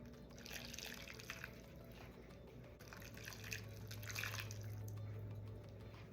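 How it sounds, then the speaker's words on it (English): Broth for chicken flautas ahogadas is poured into a bowl, a soft, continuous trickle and splash of liquid, faint and close. "go ahead and incorporate the broth into my bowl"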